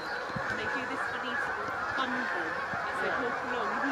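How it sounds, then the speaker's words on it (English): Geese honking repeatedly outdoors at a moderate distance, a steady series of nasal calls over soft ambient noise, with a faint voice present. "Gosh, I can hear the geese."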